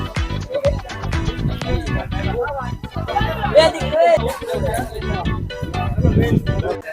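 Dense crowd chatter from many groups gathered at the starting point of the Pawankhind trek near a Chhatrapati Shivaji Maharaj statue, voices overlapping into a steady babble with a few louder nearby speakers.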